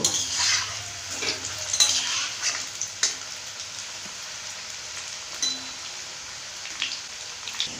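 Pieces of young jackfruit fry in hot oil, a continuous close crackling sizzle broken by occasional clicks and scrapes of a spatula, with no one speaking.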